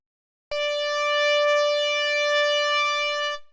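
A bright Ana2 synth lead, recreating the GTA San Andreas lead with no LFO modulation, holds one steady sustained note with a rich, buzzy harmonic tone and no wobble, starting abruptly and fading out at the end.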